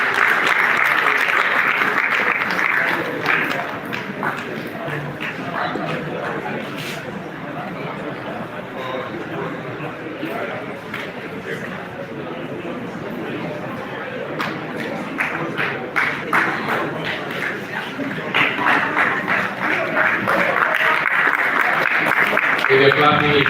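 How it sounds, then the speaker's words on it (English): A seated audience at a Directors Guild of Nigeria master class applauds in a sustained wash of clapping that swells and thins over twenty seconds, with voices talking through it. "If you're clapping, you should clap much better."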